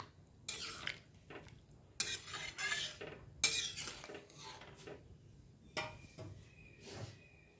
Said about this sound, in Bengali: মটর আলু ভালোভাবে মিশিয়ে নেওয়া হচ্ছে মশলার সাথে